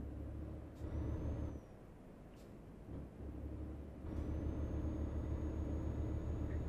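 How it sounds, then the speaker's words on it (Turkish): Truck air brakes hiss in Euro Truck Simulator 2, sharp bursts of air released over a low steady engine rumble, with several short hisses spread through the stretch. "Bu da aracın frenleri de çok iyi."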